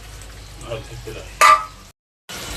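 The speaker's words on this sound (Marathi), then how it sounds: "आता याच्यामध्ये आपल्याला खिमा टाकून घ्यायचा बघा" Chicken mince tipped into a pan of frying masala for chicken keema gives a sudden loud sizzling burst, then steady stirring and frying noise with a short silent gap before the sizzle resumes.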